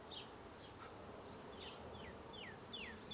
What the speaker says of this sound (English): There's a ton of bees on this one.